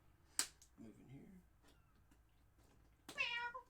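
A cat meows once, short and fairly close, in a quiet room during a tabletop board game session, with a sharp click just before it.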